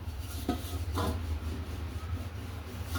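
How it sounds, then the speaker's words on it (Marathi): A rolling pin rubs and rasps khari dough flat on a board in a few soft strokes with light knocks, close and quiet against a steady low hum. "आपण चपाती कशी लाटतो त्याप्रमाणेच लाटून घ्यायची आपल्याला मोठी लाटायची"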